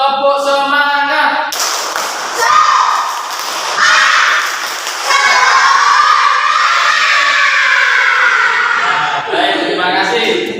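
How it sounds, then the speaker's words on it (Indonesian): Students in a classroom repeat a lively group clapping chant, rhythmic hand claps blended with loud, sustained unison voices, close and filling the room. "Satu kali lagi biar lebih semangat."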